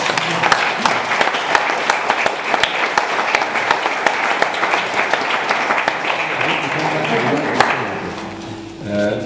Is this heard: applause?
yes